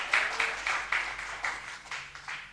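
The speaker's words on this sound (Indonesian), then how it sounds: "Tepuk tangan untuk Tuhan Yesus." A church congregation claps in a loose, steady rhythm, a handful of sharp bursts about every quarter second, moderately near and fading slightly toward the end, with no talk over it.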